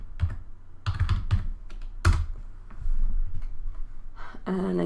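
A computer keyboard clatters with a short run of quick keystrokes as a folder name is typed, close and clear, followed by a brief pause and a final tap.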